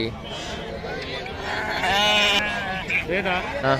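Sheep bleating at the Pebbair sheep market, a few loud wavering bleats close by over a crowded murmur of people talking nearby.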